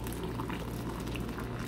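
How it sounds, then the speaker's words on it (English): Hot water poured into a 2-cup measuring cup holding four acai berry packets gives a steady, close, bubbling liquid rush for under two seconds. "And then pour the hot water."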